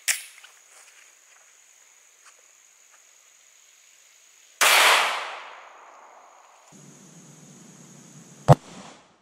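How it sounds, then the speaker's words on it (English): A 9mm handgun fires a 124 grain Critical Duty round into a gel block outdoors, one sharp report midway with a decaying tail, and a brief metallic clink later over steady insect chirping. "I'm going to go ahead and shoot another one and try and maybe get it a little bit lower into our gel block"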